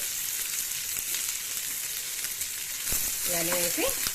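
Green chilies, curry leaves and mint fry in hot oil, making a constant dense crackling sizzle up close, with a utensil tap and a brief stir partway through.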